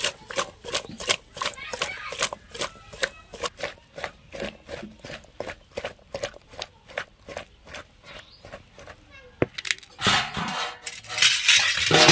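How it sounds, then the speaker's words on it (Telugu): Brinjal and dried fish curry mixed in a pot, a rapid run of regular metallic scraping and clinking strokes from a spoon against the vessel, close and crisp, then a louder sizzling swell near the end. "ఇప్పుడు ఇవన్నిటిని కలుపుకోవాలి"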